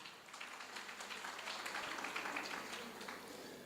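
Applause from the audience at a graduation ceremony for Amajuba TVET College, a steady wash of many hands clapping at a fairly distant, moderate level throughout.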